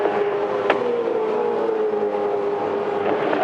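V8 Supercars race cars from the 2007 Desert 400 entering the pits, a steady loud engine drone with a sharp transient early on and a slight rise near the end, no talk.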